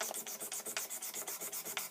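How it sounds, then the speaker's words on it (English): Rapid, steady back-and-forth scraping on the frets of an Epiphone PR-600ASB acoustic guitar being cleaned of dirt, a dense raspy rubbing sound repeating about six strokes per second, close and continuous with no talking. "You scrape it. You're just looking through the fret to fret, side to side."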